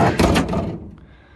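A heavy door on an old 1940s–1970s American car in a junkyard swings with a single loud thunk near the start, followed by a fading creak and quiet.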